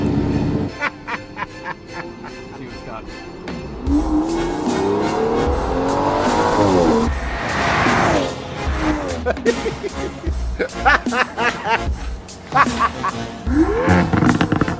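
A powerful Aston Martin DBS 770 engine roars and revs loudly up close, rising and falling through gear changes, with brief bursts of acceleration.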